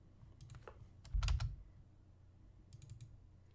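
Several bursts of keyboard typing on a computer while counting shear studs in estimating software, with scattered key clicks and a heavier clatter near the middle, fairly close and quiet, with no talking.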